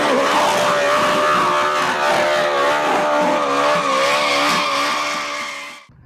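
Toy race car sound effect, a continuous loud engine whine with a screeching tire-squeal character that holds steady for about six seconds and then cuts off abruptly.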